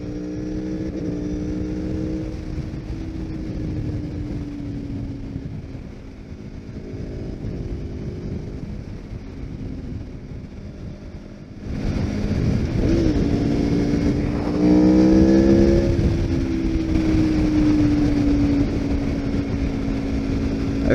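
Motorcycle engine, an Aprilia Tuono V4 or KTM 1290 Super Duke naked bike, droning steadily under load and then revving harder and louder from about twelve seconds, with pitch rising and falling through gear changes using the quick shifter.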